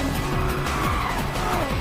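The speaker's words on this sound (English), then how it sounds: "Nittery is lighting up the front tires behind me." Race car front tires squealing hard in a racing video game, a loud continuous screech over a roaring engine, with repeated pitch sweeps as the car slides and corrects.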